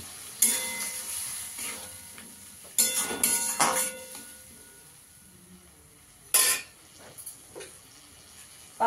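Potatoes being sautéed with spices in a pan for a Bengali chela fish curry: a soft steady sizzle broken by several sharp bursts of stirring and scraping against the pan, with no talking.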